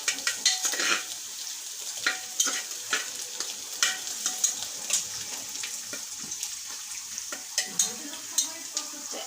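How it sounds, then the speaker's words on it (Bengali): Onions browning in a pan for beef nihari, a steady sizzle with frequent scraping stirs of a spoon against the pan, close and moderately loud with no talking. "এখন পেঁয়াজটা একটু হালকা ব্রাউন কালার হয়েছে, আর একটু ভেজে নিলে আর কি বেশি ভালো হয়।"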